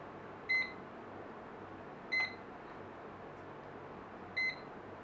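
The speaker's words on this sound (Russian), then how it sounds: "Будильник." An alarm clock beeps three times, evenly spaced about two seconds apart, each a short bright electronic tone, moderately clear over a faint steady room hum with no talking.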